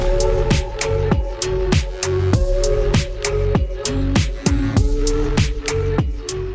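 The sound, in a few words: A Minecraft music disc playing, from a video game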